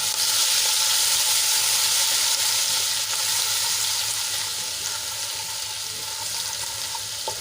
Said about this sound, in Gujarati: અને તેલમાં આપણે એને સરસ રીતે સાંદળી લઈશું